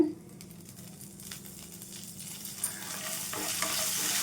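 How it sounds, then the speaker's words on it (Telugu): Mustard seeds and spices fry in a pan with a steady sizzle and light stirring, the crackle growing louder and brighter toward the end, close and without talk. "ఈ విధంగా అయితే వేయించుకోవాలి మంచి ఇవి కలర్ వచ్చేంత వరకు వేయించుకోవాలండి"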